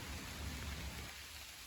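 Steady rain falling outdoors, a dense even hiss of drops with a low rumble underneath, continuous and fairly loud.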